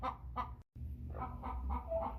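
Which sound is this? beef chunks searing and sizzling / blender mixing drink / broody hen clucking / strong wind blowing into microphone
broody hen clucking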